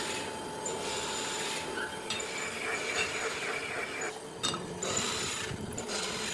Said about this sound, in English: a skilled worker uses a template to drill the holes intended for the bolt connections with a column drill